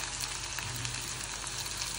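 Small shallots and curry leaves sauté in oil for a brinjal poriyal, giving a continuous soft crackling sizzle at low volume.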